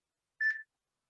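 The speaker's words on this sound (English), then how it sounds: "Let me change the timer here." A workout timer being set gives a single short electronic beep, clear and close, with silence on either side.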